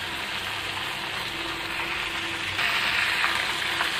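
KFC-style coated chicken pieces frying in hot oil in a small pan, a steady dense sizzle that swells louder partway through, with no talk.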